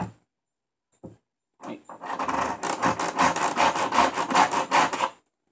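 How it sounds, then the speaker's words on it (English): A cap scrapes back and forth across a wooden table in a close, continuous rasping rub lasting a few seconds, preceded by a couple of brief knocks and handling sounds. "Now I'm gonna rub it on my table."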